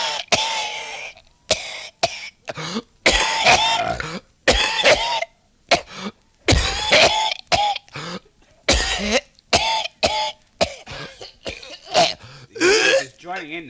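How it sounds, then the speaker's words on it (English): A man coughs hard and repeatedly in harsh, hacking bursts separated by short gaps, close and loud, with throat-clearing rasps between fits. "He begins to cough."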